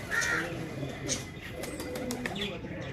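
Pigeons from a Faisalabad loft coo softly amid faint chirps and background murmur, brief low calls repeating over a few seconds.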